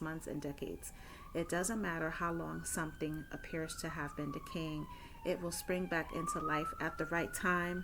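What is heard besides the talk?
police sirens in city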